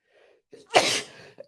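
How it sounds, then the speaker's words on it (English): A single sharp sneeze bursts out after a brief quiet inhale, loud and close, ending in a short breathy trail. "I got to sneeze."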